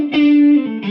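Electric guitar played through a Kemper profiling amplifier with reverb engaged: a single sustained, distorted note rings out loud and steady, then a second chord is struck near the end, with a reverb tail.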